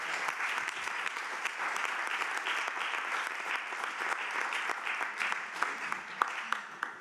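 Applause at a municipal council meeting in Aix-en-Provence, an even roomful of clapping sustained for about seven seconds with a few sharper claps near the end.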